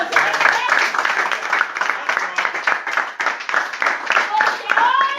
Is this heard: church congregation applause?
yes